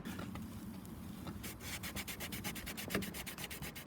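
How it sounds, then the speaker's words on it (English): A DIY lock pick being sanded with 800 grit sandpaper, heard as a quiet, close rubbing that turns into quick rhythmic back-and-forth strokes, with no speech. "this is 800 grit sandpaper"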